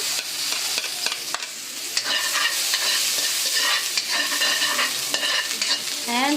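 Chopped garlic sautés with pork cubes in a pan, a continuous close sizzle broken by repeated clinks and scrapes of a spatula stirring throughout.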